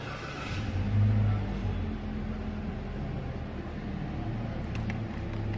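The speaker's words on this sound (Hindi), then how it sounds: "चलिए गाड़ी को स्टार्ट करते हैं।" A 2018 Toyota Rush engine fires with a brief rising rev, then settles into a low, steady idle hum that carries on evenly, with a few faint clicks near the end.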